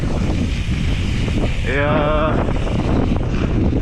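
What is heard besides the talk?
wind at an outdoor BMX track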